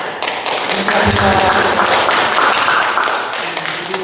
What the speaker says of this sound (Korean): 잠깐 우리 환영의 박수로 예.